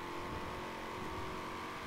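A car engine in Forza Horizon 3 revs in a short, steady burst with a buzzing harmonic whine, moderately faint and with no voices.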